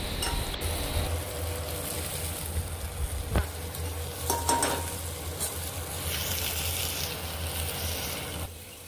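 Tomatoes fry in a pan for homemade pizza sauce, a steady low sizzle with occasional utensil clicks and scrapes, close and quiet.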